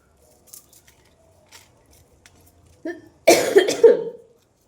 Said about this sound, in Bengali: এরকম কাশি আমার কোনো দিনও হয়নি